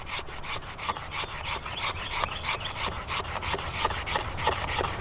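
Green bamboo is scraped with quick, regular strokes to make fine tinder, a close, rhythmic rasping at roughly five strokes per second with no speech.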